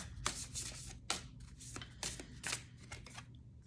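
Angel of Light oracle cards being shuffled and drawn, giving a run of close, dry papery riffles and slaps in quick irregular bursts, with no talking.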